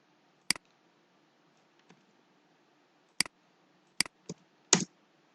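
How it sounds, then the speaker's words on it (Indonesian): A few sparse keystrokes tapped on a computer keyboard while a website address is entered, isolated clicks near and fairly quiet in an otherwise silent room. "Nanti akan diketik di sini alamat website ini."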